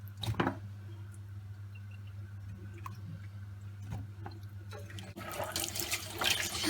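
Tap water runs over a pot being washed in a Turkish kitchen while kabak reçeli is prepared, a steady wet splashing with brief clinks and a louder gush near the end.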